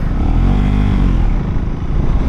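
A KTM Duke 390 single-cylinder motorcycle engine revs steadily, loud and close, with a throaty rumble that rises slightly and holds without speech over it.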